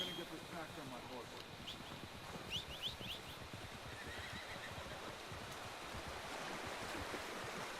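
A horse whinnies in the video game Red Dead Redemption 2, a faint high neigh early on, followed by soft hoof clip-clop over a steady rushing water and ambient background, with a voice talking underneath.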